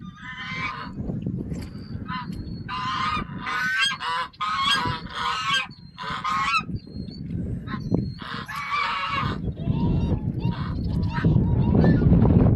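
African and Chinese geese honk repeatedly and loudly in overlapping bursts, a noisy close-up chorus over a rumbling background that grows louder toward the end.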